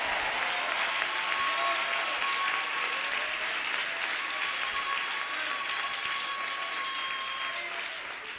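An audience claps together at a shield presentation, a dense and steady round of applause that holds evenly for several seconds before easing slightly at the end, heard from within the room.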